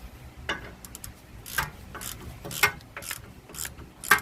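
A ratchet wrench tightens a bolt on a Nissan rear shock absorber, giving short bursts of quick metallic clicking separated by brief pauses, close and fairly quiet.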